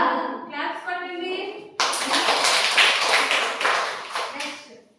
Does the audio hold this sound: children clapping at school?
yes